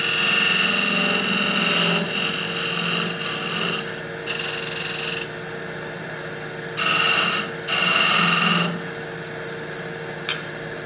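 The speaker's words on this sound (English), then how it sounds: "I'm going to lower my handle, rotate the tool, and clean up the top of the bead" A wood lathe hums steadily while a gouge shapes a long goblet stem, with several bursts of rasping cutting and quieter gaps between them, heard close without speech.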